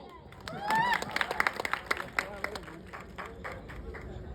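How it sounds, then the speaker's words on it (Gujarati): An audience at an award event claps: a burst of hand clapping swells quickly, then thins into scattered claps under crowd chatter and a raised voice. "જોરદાર તાળી થઈ જાય."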